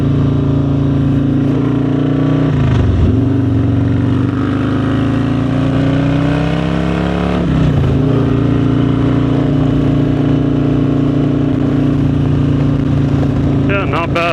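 Harley-Davidson touring motorcycle riding on wet roads in the rain, its engine droning steadily and loud throughout with brief dips and a rising pitch as it accelerates.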